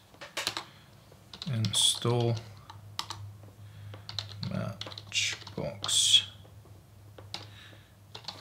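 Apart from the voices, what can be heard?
typing a terminal command on a computer keyboard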